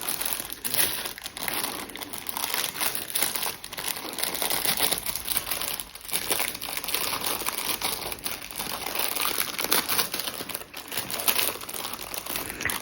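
A child tears open a crinkly Temu order package, producing dense, continuous close-up crinkling and rustling of plastic wrapping with brief pauses between handfuls.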